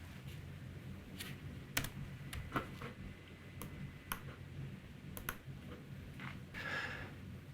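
Typing on a computer keyboard, with scattered individual key clicks at an irregular pace, fairly faint against quiet room noise and no talking.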